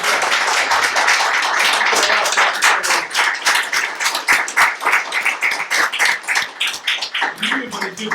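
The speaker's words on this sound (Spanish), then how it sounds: "Y un aplauso grande para los dos," An audience at a sports journalists' talk breaks into dense, sustained applause, many hands clapping close and loud, thinning into scattered individual claps toward the end.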